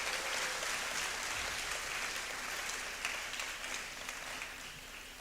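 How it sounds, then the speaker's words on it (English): An audience applauds after an inaugural university lecture, steady broad clapping heard from a distance that fades slightly toward the end. "he deserves a round of applause"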